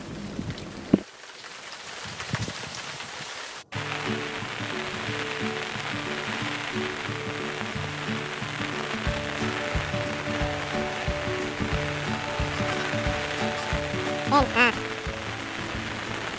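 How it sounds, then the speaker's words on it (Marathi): Heavy rain falling in a garden, a continuous broad hiss of drops on surfaces, with a steady tonal hum running beneath it after a brief pause. "खूप पाऊस, वर छत्री आणि लागणारे थंड गार वारे"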